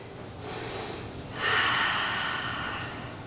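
During a held yoga pose, a person takes slow audible breaths, a soft inhale followed by a longer, stronger airy exhale close to the microphone, with no talking.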